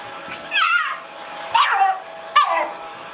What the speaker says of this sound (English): He's just being very barky.